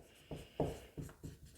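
Someone writes on a board with four short, soft scratching strokes in quick succession. The strokes are faint and close, with quiet room tone between them.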